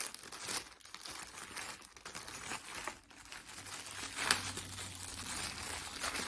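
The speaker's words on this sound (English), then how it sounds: "First, we have to put the plastic bag in." A plastic bag crinkles and rustles in close, quiet bursts as it is slipped inside a sock and opened up, an irregular run of soft crackles with no talk.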